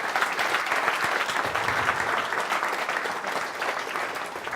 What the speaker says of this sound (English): can we just give these folks a round of applause and thanks?